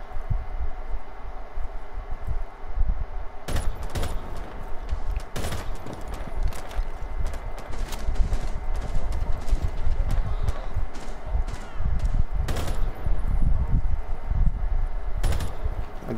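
Rapid gunfire bursts in the video game Rainbow Six, loud cracking volleys over a steady noisy game mix that continues throughout.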